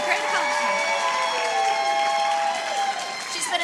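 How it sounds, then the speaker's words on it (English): A crowd at a teacher of the year awards ceremony applauds a second-grade teacher honoree, sustained clapping mixed with cheers and voices, fairly loud throughout. "You can go ahead and clap for her"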